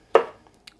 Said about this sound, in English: And I'll just cut them into little slices.